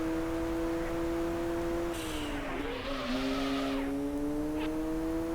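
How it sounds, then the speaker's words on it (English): A car in the racing game Auto Modellista skids into a spin, its steady engine drone bending and dipping as a rising tire squeal sweeps in, then recovering to a higher pitch, loud and close with no talk. "Oh god, almost, there's a spin."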